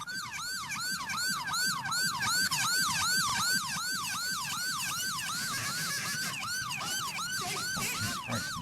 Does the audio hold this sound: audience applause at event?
no